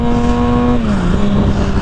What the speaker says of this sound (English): that Two Brothers exhaust sounds good